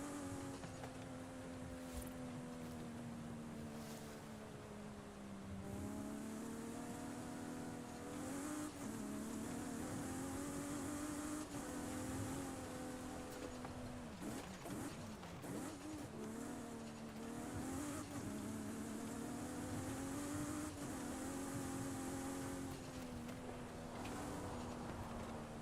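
A BMW convertible drives in Forza Horizon 5, with its engine droning and shifting pitch as it accelerates and revs, plus occasional tire squeal. The sound is continuous and steady, with no talking.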